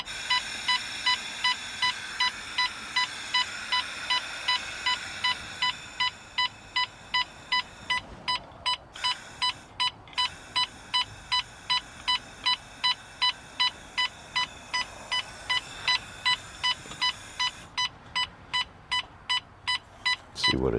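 An explosive gas detector alarm set off by propane from an old tank in a van, a rapid, steady train of loud electronic beeps pulsing on and off continuously over a constant hiss of gas.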